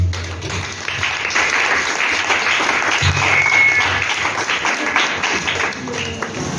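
A church congregation breaks into loud, sustained applause, dense clapping filling the room steadily from start to finish with a low rumble beneath.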